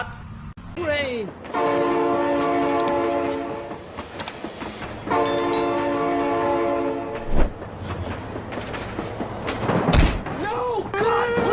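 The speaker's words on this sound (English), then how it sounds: "Train!" Video game train in BeamNG.drive sounding long, loud horn blasts twice with rumbling rail noise and heavy clanks between them, while a voice shouts excitedly over the passing train.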